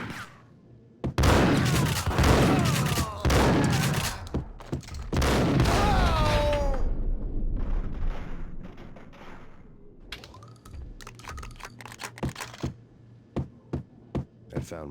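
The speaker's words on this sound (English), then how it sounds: "Gun him down!" Gunfight in the video game Max Payne: bursts of loud, sharp shots and booming impacts cluster in the first seven seconds, then thin out to scattered single cracks and thuds, with voices shouting in between.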